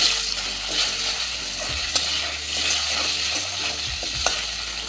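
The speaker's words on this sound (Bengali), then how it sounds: "আলুটাও আমি ভালো করে ভেজে নেব" Long-cut potato slices fry in hot oil after cumin, black cumin and fenugreek tempering, a steady close sizzle with occasional stirring scrapes and clinks, no voices.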